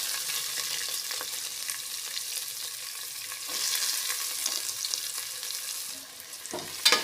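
Onion fries in oil for chicken masala with a steady close sizzle, occasional stirring scrapes and a sharper clatter near the end, and no one speaking.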